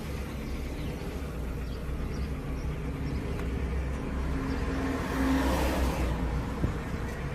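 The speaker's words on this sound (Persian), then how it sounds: "حالا ما کم کم دنده عقب حرکت میکنیم." Car slowly reversing during a parallel parking maneuver, a low steady engine hum with faint road and wheel noise that swells slightly toward the end, no talking.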